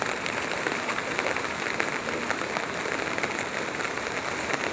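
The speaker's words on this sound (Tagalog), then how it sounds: "Umuulan kasi." Rain falls steadily in an even, dense hiss of drops on surfaces, soft and constant throughout with no voices.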